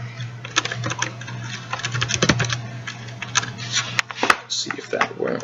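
Quick, uneven clatter of fingers typing a password on a computer keyboard, close and distinct over a low steady hum.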